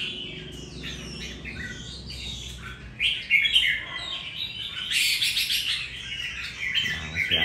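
A stressed caged bird chirps and tweets in bursts of sharp, bright calls, sparse at first and then denser and louder, with a soft low hum underneath.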